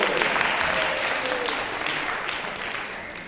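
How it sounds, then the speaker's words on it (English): Brief, dense applause from an audience at a talk and string quartet performance, continuous clapping that fades a little by the close. "round of applause, please"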